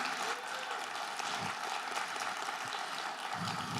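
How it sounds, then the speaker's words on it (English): Audience applause at a fentanyl awareness summit greeting Congresswoman Melanie Stansberry, a steady, dense wash of many hands clapping throughout, moderately distant in a large room. "Please let's give her a round of applause for being here today."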